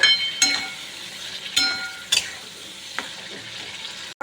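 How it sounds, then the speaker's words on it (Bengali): Shrimp stirred and fried with spice paste for a Bengali shrimp malai curry, a soft steady sizzle broken by a few sharp clinks of a spoon against the pan. "চিংড়ি মাছগুলো দিয়ে এটা একটু ভালো করে কষবো"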